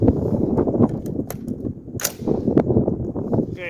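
Rifle shots from a 5.56 rifle fitted with a shielded muzzle brake, several sharp cracks at irregular intervals over steady outdoor background noise, with no one talking.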